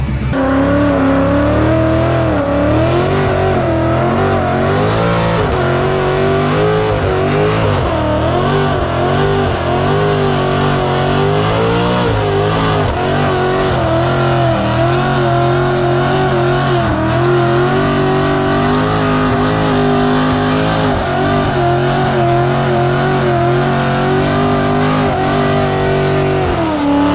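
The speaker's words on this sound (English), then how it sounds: "I'm sure all y'all came for the Burnout, so we'll get started with Mr. MMS himself," A Mustang engine revs hard and continuously at high pitch during a burnout, loud and close, sustained roaring with wavering revs throughout.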